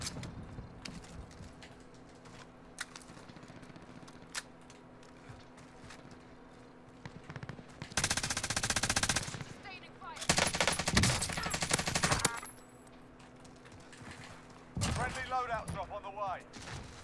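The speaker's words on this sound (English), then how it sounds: "I'm taking fire." Bursts of Milano 821 submachine gun fire in Warzone on Rebirth Island, loud volleys at about eight, ten to twelve and fifteen seconds, over quieter game background sounds.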